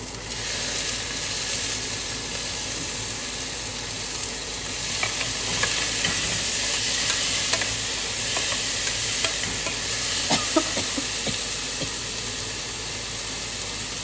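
Onions and tomatoes frying in a pan for a bitter gourd tamarind curry, a steady close sizzle and hiss with occasional scraping stirs.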